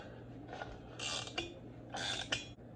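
Loosening the pulley nut on a cooling fan while the flywheel is held, giving a few faint metallic ratcheting and creaking bursts at close range with no speech.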